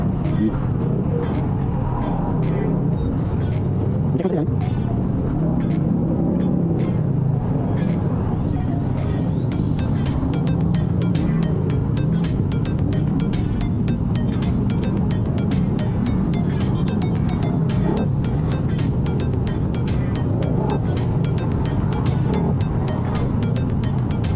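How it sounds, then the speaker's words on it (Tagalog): Heavy morning road traffic in a long jam: a steady, loud rumble of car, bus and truck engines with occasional brake hisses and passing vehicles, while people talk over it. "Grabe ang traffic dito"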